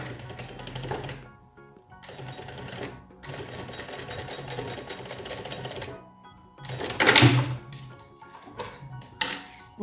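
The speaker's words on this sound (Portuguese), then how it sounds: "E aqui eu já vou passar um pezinho de máquina." A sewing machine stitches fabric for a lunch box in bursts of fast mechanical whirring and rattling, stopping and restarting with brief pauses and handling noise between runs, close and clear.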